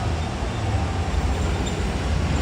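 A subway train rumbles at a Queens station platform in New York City, a dense, steady low roar of wheels and carriage noise filling the space without a break.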